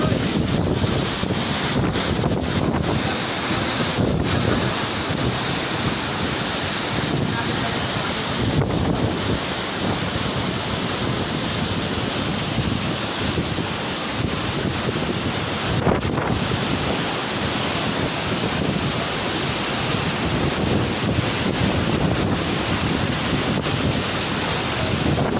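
Strong typhoon wind roaring through trees in downtown Calawag, a continuous loud rushing blast with gusty surges and buffeting against the microphone, no voices.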